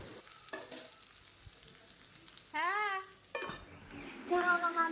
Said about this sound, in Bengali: তো পটলগুলো আগে ভেজে নিতে হবে।